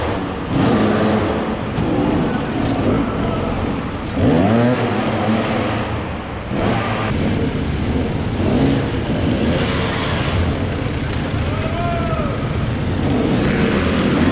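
A 2020 KTM 300 EXC enduro motorcycle racing at a four-season enduro event near Logoisk, its engine loud and close, revving and droning continuously with rising and falling pitch as it accelerates and eases off.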